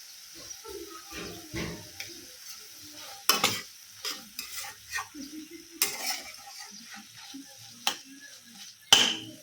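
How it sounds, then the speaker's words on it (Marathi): Hadga flower vegetable cooking in a pan with crushed peanuts added, the spoon stirring and scraping in irregular strokes with a soft sizzle, close and fairly quiet, with a few sharper clanks against the pan. "भाजी मस्त शिजते त्याच्यामध्ये थोडंसं कूट टाकूया शेंगदाण्याचं"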